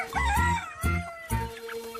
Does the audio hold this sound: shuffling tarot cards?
no